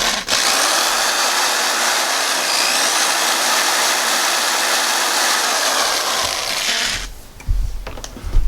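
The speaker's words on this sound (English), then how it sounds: "So now it's time to drill the holes" Power drill boring holes into a boat hull while installing a T-H Marine KVD Kong trolling motor mount, a loud steady whine running about seven seconds before stopping, followed by brief clunks and handling noise.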